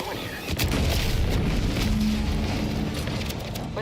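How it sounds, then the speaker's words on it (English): An explosion in the video game The Outer Worlds 2 comes as a deep, rumbling boom that swells and holds as a sustained roar for several seconds, loud and close. "What's that? An explosion?"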